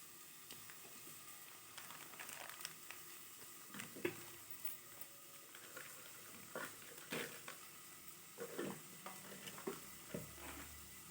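Ivy gourd sizzles softly in a pan over a high flame and is stirred now and then, producing a constant quiet frying hiss broken by scraping and clattering utensil strokes.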